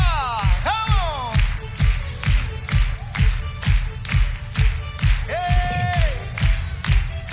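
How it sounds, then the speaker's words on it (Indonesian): A congregation at a Christian church service claps along, steady rhythmic clapping over music that fills the room. One voice calls out briefly. "Tepuk tangan sekali lagi buat Raja."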